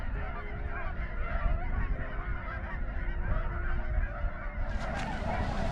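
A large flock of about a thousand Canada geese honking continuously by the Yellowstone River, a dense overlapping chorus of calls with steady outdoor background noise.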